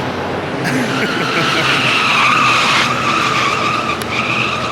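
Ford Lightning truck screeching its tires on a short drag strip at the Detroit Auto Show, a loud sustained squeal rising over crowd noise and a running engine, with a voice heard under it.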